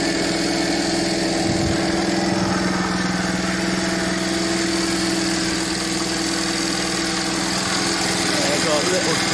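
A 1972 Honda Dax ST70 monkey bike engine idles steadily while warming up, held just ticking over with a blocked, glued carburettor, a constant close, even drone that continues without a break throughout.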